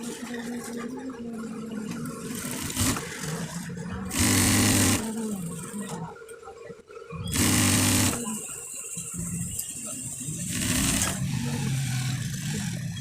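A sewing machine stitches the side seams of a panjabi garment in three loud, sustained bursts, each about a second long, separated by quieter handling and the rustle of cloth.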